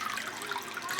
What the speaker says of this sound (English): I'm just going to wash the garlic and ginger into my pot